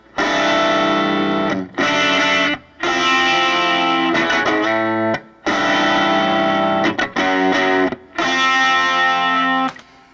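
A distorted, jangly 12-string electric guitar played through an amp, recorded with a Shure SM57 microphone, strummed chords in bursts with short pauses between phrases, loud and close.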